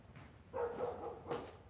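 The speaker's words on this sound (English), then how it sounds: "That dog." A dog barks a few times in a room, two fairly close, moderately loud yips or barks separated by a short pause, with no talking over them.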